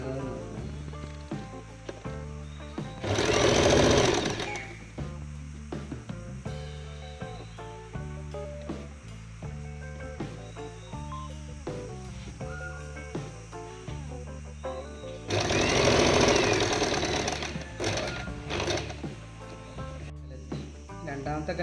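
A home sewing machine stitches a cloth face mask in two short, loud bursts of whirring, each about a second long and well apart, over steady background music.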